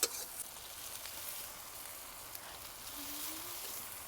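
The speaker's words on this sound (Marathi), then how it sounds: "कांदा पण मस्त खमंग परतून घ्यायचा आहे" Onion, tomato and chillies sauté in a pan with a faint, steady hiss and sizzle. The sound stays low and even throughout, with no voice over it.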